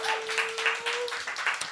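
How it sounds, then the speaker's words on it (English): Scattered hand clapping from an audience at a poetry open mic and zine launch, applauding a person in the booth; brief, fairly faint claps with a sustained tone running underneath. "let's give a round of applause to Eric Alberg"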